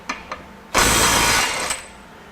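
Craftsman CMCF920 mid-torque impact wrench set to 250 foot-pounds gives a loud, sustained burst of rapid hammering lasting under a second, preceded by a couple of short mechanical clicks and followed by a faint tail.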